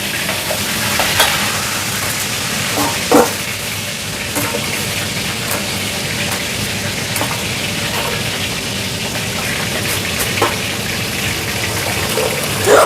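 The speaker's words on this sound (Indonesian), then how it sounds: "Goreng ikan ini hati-hati ya, buntutnya tidak boleh putih." Fish frying in hot oil in a home kitchen pan, a loud, constant close-up sizzle with scattered sharper pops and spatters throughout.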